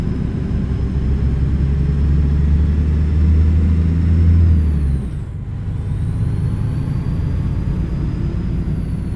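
Engine under load, a heavy low steady drone that builds and then drops sharply about halfway through, as if for a shift, before settling into a lower, quieter hum.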